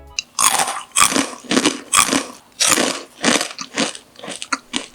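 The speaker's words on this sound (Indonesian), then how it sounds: "Sementara jika versi bantat ketika dimakan suaranya itu seperti ini guys." Crunching bites into a dense, underpuffed fried macaroni snack, a loud, close series of about eight sharp crackly chews in an uneven rhythm, with no talking.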